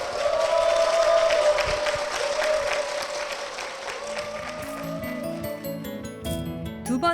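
A church congregation claps loudly and steadily for two deacons, the dense applause fading after about four seconds as music rises underneath.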